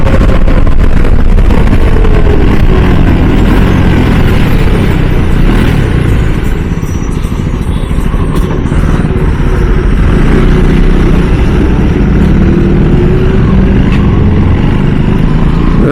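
A Husqvarna 401 motorcycle engine runs loud and close with a steady, rough rumble throughout, shifting slightly in pitch as it revs and settles, on a ride toward Sirumalai.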